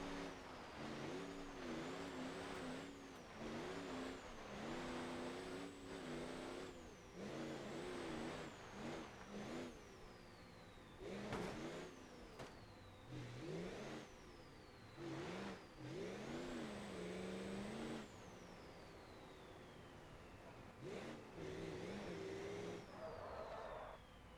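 A car in the driving game BeamNG.drive slides on snow, its mid-pitched engine revving up and down in repeated surges with falling pitch sweeps, loud and continuous with brief pauses.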